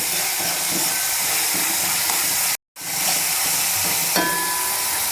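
Garlic and onion frying in hot tempering oil for a soybean curry, a loud, steady, close sizzle and hiss that drops out for a split second midway, then resumes.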